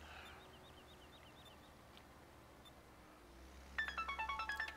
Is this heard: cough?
no